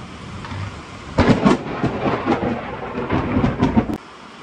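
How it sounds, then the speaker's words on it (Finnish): During a summer thunderstorm over the Tiistenjoki river in Finland, a crackling, rolling peal of thunder rumbles close and loud for about three seconds over steady rain, then cuts back to a softer hiss. "Ois pikkusen ukkosta ilmassa."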